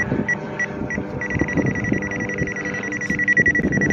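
An Elitech IR-200 refrigerant leak detector in heated diode mode gives a rapid run of high electronic beeps that merge into a continuous alarm tone, loud and close, over a rumbling background.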